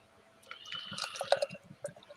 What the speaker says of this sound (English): So go ahead and pour this thing up.